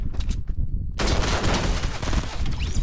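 Fortnite Battle Royale gunfire, rapid sustained automatic bursts filling the whole clip, loud and close, starting with a few separated shots then becoming a dense continuous barrage.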